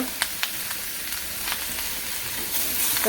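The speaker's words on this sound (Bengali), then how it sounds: "সবজিটা ভালো করে আর কি কষিয়ে নিব" Vegetables being sautéed in a hot pan with salt, dried chili powder and turmeric, giving a steady close sizzle and frying hiss with a few light stirring clicks near the start, no voices.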